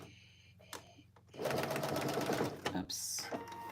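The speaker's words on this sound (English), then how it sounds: "I'm going to top stitch the folded edge." A sewing machine runs a steady whirring burst of rapid needle strokes while top stitching the folded edge of a cargo pant pocket, close by and loud, with a person talking before and after the run.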